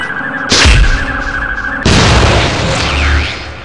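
Two heavy booming blasts from a grenade launcher in the shooter game Gunman Chronicles, the first at about half a second and the second near the two-second mark, each loud and close with a rumbling tail and no speech.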